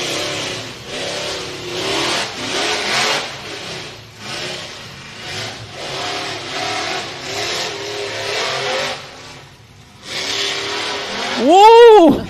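A UTV race vehicle slings around a corner on a dirt course at a Mickey Thompson off-road event in Windrock, its engine revving loudly in repeated surges, briefly dropping, then roaring again with a rising whine at the end.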